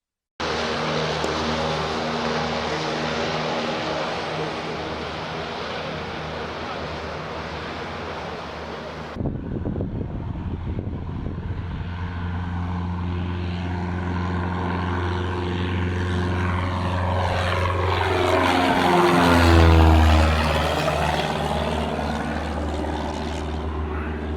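A light propeller aircraft departs Brooklands. The engine drones steadily, then the pitch sweeps and the sound swells as the plane passes close. It peaks loud near the end and fades slightly after, with wind noise throughout.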